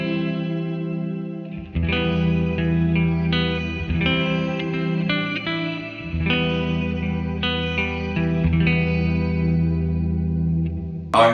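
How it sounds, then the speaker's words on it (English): Electric guitar chords ring out through a shimmer reverb pedal (RV1), with bright, octave-up sustained overtones swelling and hanging behind each strum. "The shimmer reverb of the RV1 sounds like this."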